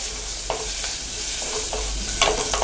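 Whole shallots sautéing in a pan for sambar, a close, steady sizzle with short scraping stirs of a spoon at irregular intervals and no talk.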